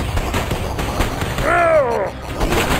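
Pistol gunfire in the retro shooter Super Wolfenstein HD, several quick shots landing amid game noise, with a voice shouting excitedly over the action.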